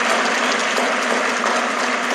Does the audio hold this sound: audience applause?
yes